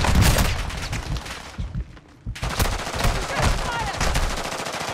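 Heavy automatic gunfire in the shooter game Warzone 2 rattles in rapid, loud bursts close by. A brief lull comes before the shooting resumes, with a voice calling out amid the action.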